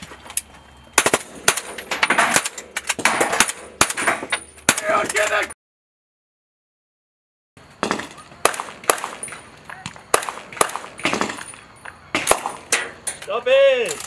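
Military small-arms and machine-gun fire during a Talisman Sabre 21 airfield attack exercise at Bowen Airfield: loud, close bursts of automatic fire mixed with shouting voices, broken by a few seconds of silence midway before the firing resumes.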